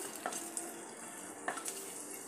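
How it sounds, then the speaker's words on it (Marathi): Whole spices, cardamom with a small piece of cinnamon, frying in oil for restaurant-style paneer, giving a steady soft sizzle with a few faint crackles and stirring clicks, close by and quiet. "आता हे आपण तेलात थोडेसे परतून घेऊया। हे थोडे चटकायला लागले की"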